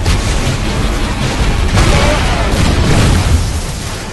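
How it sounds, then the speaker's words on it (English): Grenade blasts in the shooter game Hard Reset form a loud, continuous wall of booming explosion noise with rumbling low end, lasting throughout with no clear gaps. "tries that same tactic to avoid the guy who's shooting grenades"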